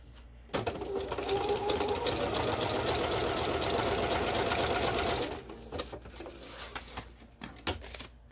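A sewing machine runs a steady zigzag stitch between fabric labels for about five seconds, then slows into a few scattered clicks and taps of the mechanism.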